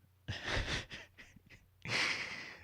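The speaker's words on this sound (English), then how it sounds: "It's a yawn." A long, drawn-out yawn with breathy, airy texture, pausing briefly before a second loud stretch of exhaled breath, close to the microphone.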